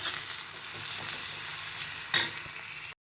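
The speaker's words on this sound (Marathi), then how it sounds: "पुन्हा एकदा परतून घेऊया सगळं हळदीमध्ये." Onion and tomato with turmeric sauté in hot oil, a continuous close sizzle broken by scraping stir strokes and one sharper clatter near the end before the sound cuts off.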